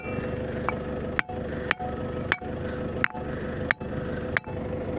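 A big hammer strikes a hard stone that refuses to break: six sharp, ringing impacts land at roughly even intervals, close and crisp, over a quiet background.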